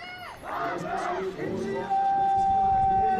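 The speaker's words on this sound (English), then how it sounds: "please give a warm round of applause to our athletes" A crowd at a youth world archery championship cheers and whoops for the under-18 men's compound team medalists in a loud, sustained roar, with a steady tone entering partway through.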